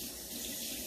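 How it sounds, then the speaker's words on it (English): Warm water streams steadily from a kitchen tap for a short moment, a continuous close splashing hiss with no voices over it. "So I'm going to start by getting some warm water,"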